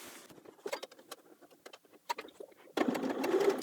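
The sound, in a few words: sewing machine stitching pocket facing seam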